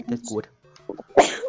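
A sudden, loud sneeze bursts out near the end, following a stretch of casual talk between people playing Super Mario Maker 2.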